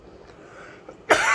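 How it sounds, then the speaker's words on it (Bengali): A single dry, tickly cough breaks out suddenly and close by at the very end, after a second of quiet in a car on a long drive. "এই খুসখুসানি কাশিটা এখন আছে"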